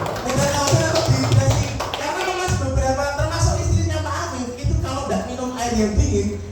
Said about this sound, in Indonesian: Tepuk tangan buat Bang Omer